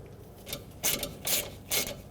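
A ratchet clicks in three short bursts as a bolt is turned on the A/C condenser line of a 2003–2008 Toyota Corolla, close and fairly clear over a quiet background.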